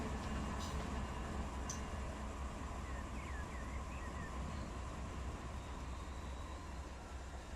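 Freight train in the Run 8 train simulator game braking in a yard transfer, with a steady low rumble of rolling cars and a faint hiss of air brakes, plus a few brief high squeals over the constant noise.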